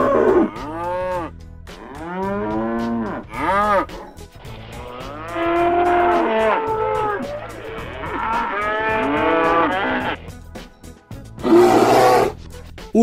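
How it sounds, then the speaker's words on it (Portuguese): A cow moos in several long, loud, drawn-out calls with brief pauses between, close and clear with no other sounds. "Vaca. Animal bovino, mamífero e herbívoro que alimenta-se principalmente de plantas."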